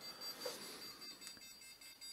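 An Arduino buzzer gives faint, repeated high-pitched beeps in a short on-off pattern over a quiet room background.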